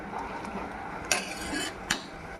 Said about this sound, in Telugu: శుభ్రంగా దీన్ని ఉడకబెట్టుకోవాలి, తిప్పుకుంటూ ఉండాలి.